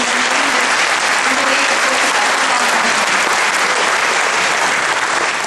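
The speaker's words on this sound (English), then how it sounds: "let's just everyone give a round of applause for yourselves for coming out" A large crowd of several hundred at a Fred Korematsu Day event claps loudly and continuously, a dense, even wash of applause with a few faint voices beneath.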